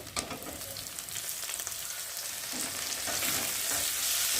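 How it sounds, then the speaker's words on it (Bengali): Spices fry in a pan and chopped tomatoes go in, giving a soft but steady sizzle with faint crackles that swells toward the end. No voices are heard. "ভালো করে ভাজা ভাজাও হয়ে গেছে, আর এর মধ্যে এখন আমি কোচানো টমেটোগুলো দেবো।"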